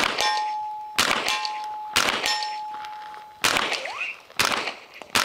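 Several sharp shots from a cheap Chinese M4-style AR-15 rifle crack out at irregular intervals, each followed by a ringing metallic clang that fades between shots.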